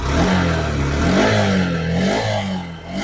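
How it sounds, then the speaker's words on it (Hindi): A 2023 Honda SP125 BS7 motorcycle exhaust revs up and settles back down, a close, loud engine rumble rising and falling, with no talking. "हम लोग एक बार एग्जॉस्ट का साउंड भी सुन लेते हैं।"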